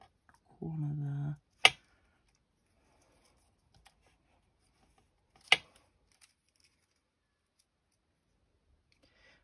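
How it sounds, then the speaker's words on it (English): Scissors make two sharp, isolated snips into the corner of a paper card for a handmade teacher thank-you tag, spaced a few seconds apart in near silence after a brief low voice. "I'm going to snip a little corner there"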